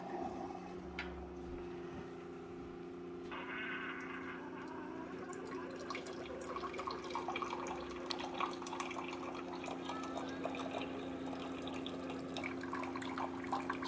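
A Keurig K-Duo coffee maker brewing a regular-strength cup, giving off a steady watery gurgle and hiss with a constant low pump hum, close by and continuous with no talk.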